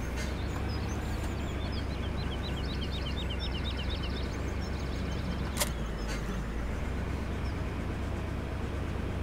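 A skid steer tows a trailer in Farming Simulator 17. Its steady low engine drone runs throughout, with faint birdsong above it and one brief sharp click near the middle.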